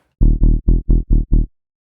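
Distorted dubstep bass built from an acid wavetable in the Serum synthesizer: six short, evenly spaced, gritty growling notes played loud and alone, each choppy and clipped, ending in silence.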